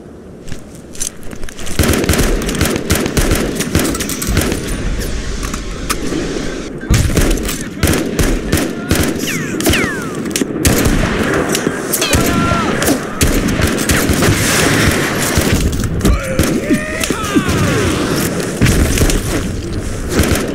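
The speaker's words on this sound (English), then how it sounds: "Opening fire!" Relentless gunfire and explosions from the war game Mud And Blood, with machine-gun bursts, rifle shots and heavy booms piling into a loud, continuous barrage, and voices shouting now and then underneath.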